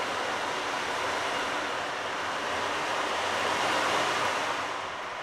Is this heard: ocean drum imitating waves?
yes